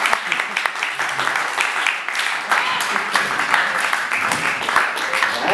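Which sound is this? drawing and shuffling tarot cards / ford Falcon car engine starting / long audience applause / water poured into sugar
long audience applause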